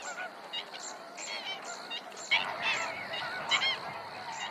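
A flock of flamingos calls in a coastal creek sheltered by pine trees, with a continuous chorus of nasal, goose-like honks overlapping at varying distances, some calls near and louder.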